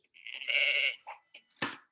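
A single sheep bleats up close, one wavering cry followed by a couple of short, quieter bleats.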